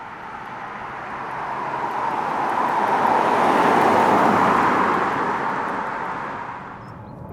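Mazda CX-5 facelift with a 2.5-litre naturally aspirated engine idling, its exhaust giving a steady, smooth, sporty drone heard close up that swells slightly and then eases off.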